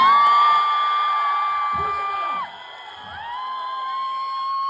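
A film premiere crowd cheers with high whoops and sustained shouts that rise and fall, then fade briefly before building again.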